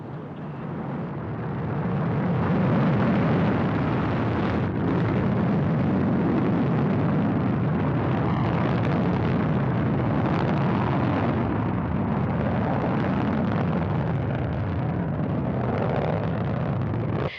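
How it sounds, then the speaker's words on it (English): A Progress 82 cargo ship lifts off on its rocket from Baikonur Cosmodrome. A deep, steady roar builds over the first two seconds, then holds loud and unbroken for the rest of the clip. "Liftoff of Progress 82, the next vehicle in the supply chain to the International Space Station."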